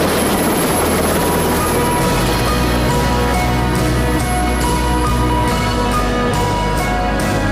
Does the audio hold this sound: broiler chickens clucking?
no